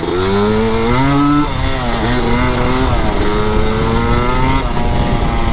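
An off-road 250R two-stroke engine idles loudly and close up while warming, its buzzing note wavering and blipping slightly up and down with no voices.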